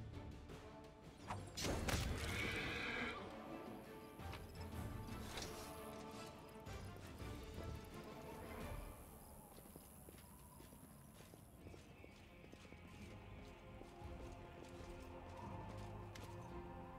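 Plagued horses in the Pathfinder: Wrath of the Righteous video game, with loud hoof clip-clop and an occasional whinny over a busy layer of game effects and ambient music.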